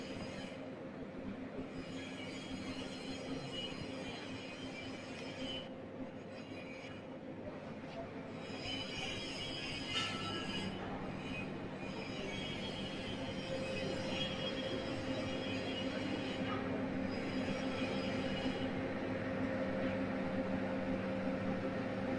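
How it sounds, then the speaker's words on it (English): A German-made Bitter brand compressor running in a refrigeration equipment workshop, giving a quiet, steady mechanical hum with tonal drone and faint intermittent metallic squeals over background room noise. "This is a compressor, Bitter compressor, Bitter brand compressor,"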